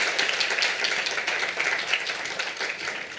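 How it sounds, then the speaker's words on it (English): A live meetup audience applauds as a woman joins the stage, steady dense clapping filling the room throughout at moderate level with no voices over it. "So can you just give Dr. Rufaro a round of applause as she joins me on stage?"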